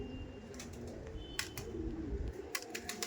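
Pigeons of the Andhra breed cooing at a pigeon market stall, low murmuring coos running steadily through the clip with a few sharp clicks and rustles nearby.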